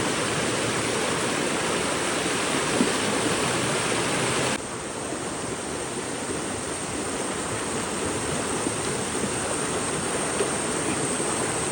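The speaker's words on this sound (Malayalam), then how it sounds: "ഇവിടെ നല്ല ക്രിസ്റ്റൽ ക്ലിയർ ആയിട്ടുള്ള വെള്ളമാണ് ഒഴുകുന്നത്" Crystal-clear water rushes along a stream near a waterfall in Calicut, a loud, constant roar of flowing water with a slight drop in level partway through.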